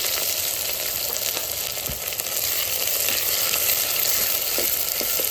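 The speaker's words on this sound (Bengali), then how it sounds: "এবার দিয়ে দেবো পেঁয়াজ, কুচিয়ে রাখা পেঁয়াজ।" Chopped onions fry in hot oil in a pan for a village-style duck curry, giving a constant close, loud sizzle with faint stirring clicks and no talking.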